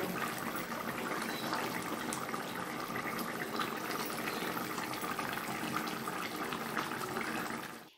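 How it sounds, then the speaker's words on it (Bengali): A thin rui fish curry with cauliflower and potato simmers in a pot, giving a steady, close bubbling and hissing burble that holds even and then drops away at the very end. "মাছ দিয়ে আমি কিন্তু বেশিক্ষণ ফোটাবো না"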